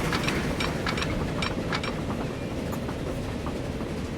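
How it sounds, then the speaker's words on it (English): A train passes along a railway in the Transport Fever 2 video game, a continuous rumble with rhythmic clickety-clack wheel clicks, steady and fairly close, with no voices. "Now that train's going through the middle"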